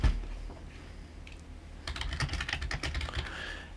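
Typing on a computer keyboard, a quiet scattering of key clicks that grows into a brisk burst of close, light taps.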